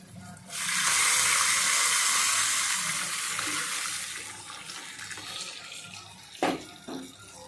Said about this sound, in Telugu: సింక్లో గిన్నెలన్నీ తోమేశాను